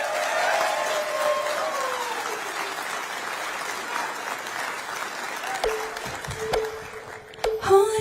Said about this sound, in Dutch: dames en heren, geef daar een applaus